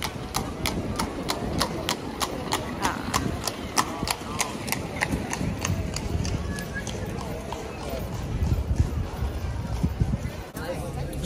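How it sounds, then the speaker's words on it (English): A horse and cart clip-clop past on a street in Bruges during the Christmas markets, a steady rhythm of hoof strikes that gradually fades, under crowd babble and people talking. "There's another horse and cart."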